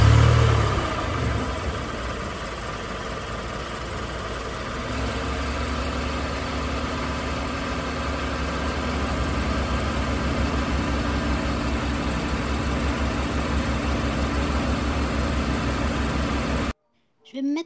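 Car engine idling in Roblox Brookhaven, a steady low mechanical hum running continuously for most of the stretch before cutting off abruptly near the end.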